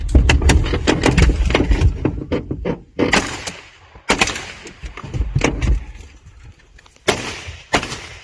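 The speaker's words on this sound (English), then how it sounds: "videos of the suspects practicing rapid reloading of their assault rifles" Assault rifles firing during practice at an outdoor range, with rapid cracking shots in bursts and echoing booms at mid distance, loud and irregular.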